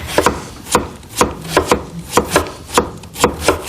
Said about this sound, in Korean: 이렇게 해서 납작납작하게 이렇게 써시면 됩니다